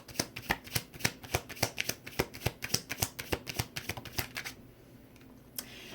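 A deck of cards is shuffled for a card reading, a rapid run of close, crisp riffling flicks that stops after about four seconds, followed by a couple of soft handling taps.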